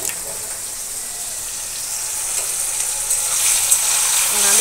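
Rice frying in a pan for paneer fried rice, a close, continuous hissing sizzle that grows gradually louder toward the end.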